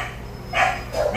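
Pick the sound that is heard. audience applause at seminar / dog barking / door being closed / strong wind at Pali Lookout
dog barking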